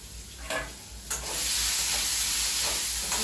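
Onions frying in a pan give a steady, close sizzle that swells into a continuous hiss after a couple of brief bursts, with no voices.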